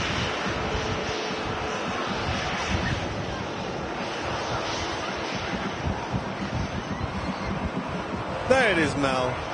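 A Ryanair airliner departs Manchester Airport for Barcelona, its engine roar a steady broadband rumble at moderate distance, with a voice talking over it and a brief bump near the end.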